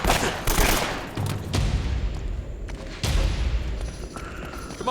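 Gunfire aimed at enemies in Uncharted: Drake's Fortune, with several sharp shots and bursts spread through a busy game soundscape, some of them loud and close.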